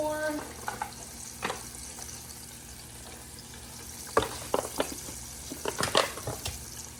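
Chicken wings frying in hot oil in a home kitchen, a steady low sizzle broken by sharp crackles and spits, with a quiet first half and clustered pops near the end.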